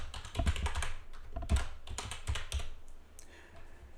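Quick clusters of keystrokes on a computer keyboard as a task name is typed, close and crisp, several short bursts then a pause with no talking.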